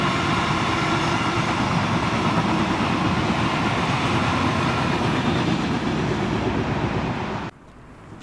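A heavy Class 66 diesel locomotive hauling a freight train rumbles past close by in Scotland, a steady loud roar with rhythmic wheel clatter, then cuts off abruptly near the end.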